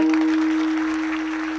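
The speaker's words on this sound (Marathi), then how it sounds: "एकदा जोरदार टाळ्या वाजवा" An audience at a Marathi kirtan claps together in a short burst of applause, heard at moderate distance over a steady electrical hum.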